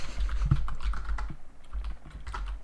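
Someone types on a computer keyboard during a Rainbow Six Siege match, a quick irregular run of close clicking keystrokes over low game background noise.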